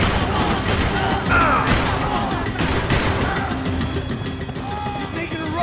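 Rifle gunfire rattles in bursts through a chaotic Max Payne 3 chase, with loud thumps and crashes under shouted voices and dense action noise throughout.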